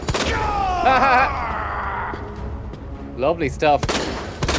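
Gunfire from the video game Resident Evil 2, a few loud shots fired amid game noise and groaning, with someone talking over and between the shots.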